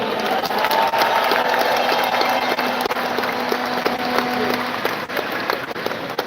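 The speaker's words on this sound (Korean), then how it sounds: "힘찬 응원과 격려의 박수 부탁드립니다" A large indoor audience at a party leadership convention applauds continuously, dense steady clapping with faint crowd noise and no pauses.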